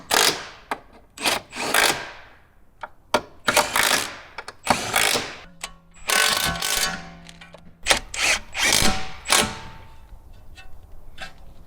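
A torque wrench tightens the wheel lug nuts on a 2016 BMW 330, giving repeated close, sharp clicks and ratcheting bursts in uneven groups, with no talking over them.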